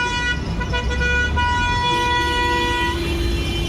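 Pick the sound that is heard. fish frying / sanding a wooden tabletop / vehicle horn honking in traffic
vehicle horn honking in traffic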